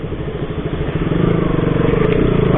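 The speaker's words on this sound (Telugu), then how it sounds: "మనం దీని మీద కూర్చొని ఇలా రెవ్ చేస్తే ఒక బెస్ట్ స్పోర్ట్స్ బైక్ మనం నడుస్తున్న ఫీల్ వస్తుంది" A KTM RC 200 sports motorcycle's engine revs up in a short, loud, throaty burst that builds in pitch and pulsing intensity, with no talk.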